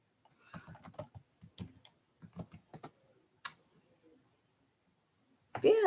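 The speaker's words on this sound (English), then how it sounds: "Sorry, I'm also typing at the same time." Fingers tap on a computer keyboard in short bursts of quick, close keystrokes separated by pauses, with a brief louder sound at the end.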